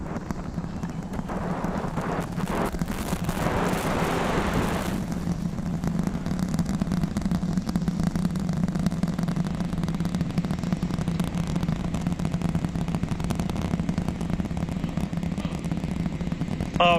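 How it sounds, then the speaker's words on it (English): SpaceX Starship Super Heavy rocket launching on its fourth flight test, a deep continuous rumble heard from a distance with crackling bursts early on, holding steady and loud throughout. "The rumbles are still building here in the Raptor's nest."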